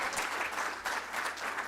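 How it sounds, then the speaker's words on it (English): A crowd at a youth mental health event gives a panel a big round of applause, dense sustained clapping that fills the short moment at steady volume. "One more big round of applause."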